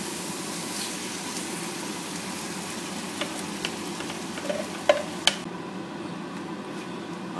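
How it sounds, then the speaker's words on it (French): Tomato sauce poured into a pan of bolognese for lasagne: steady sizzling and frying, with a few faint clicks and clinks near the end; no talking. "Maintenant on n'a plus qu'à verser la sauce tomate."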